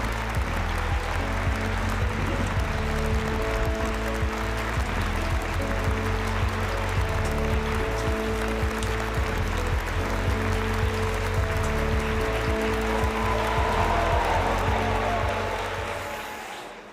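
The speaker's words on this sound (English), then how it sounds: "Please welcome him with a warm round of applause." Steady, dense applause from a large audience at an international conference, filling the room continuously at full volume and tapering slightly at the end, with no talking over it.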